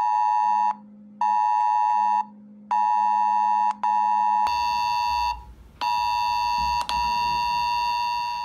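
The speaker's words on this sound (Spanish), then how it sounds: "se sorprendió por este sonido de alerta en su celular." A loud, harsh mobile phone emergency alert tone sounds in repeated on-off pulses with short gaps during a national early warning system test, the blaring buzz continuing steadily.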